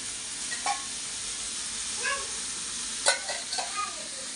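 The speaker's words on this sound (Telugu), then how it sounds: "1 టీ స్పూన్ జీలకర్ర, 2 స్పూన్ల ఆయిల్ వేసుకుందాము." Cumin seeds and oil in a pan for a ridge gourd chutney, giving a steady soft sizzle with a few brief stirring scrapes and clinks, close and fairly quiet, with no talking.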